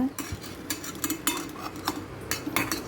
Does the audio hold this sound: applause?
no